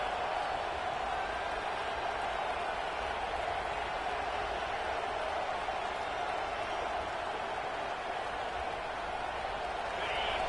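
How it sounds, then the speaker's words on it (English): A dense, steady roar from a stadium crowd in the College Football 26 video game holds unbroken throughout, loud and continuous with no distinct breaks. "This crowd, full throat, splitting the eardrums and letting them know it's going to be a long day"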